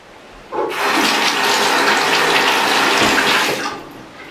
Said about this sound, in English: I basically just rinse these off with water before I put them in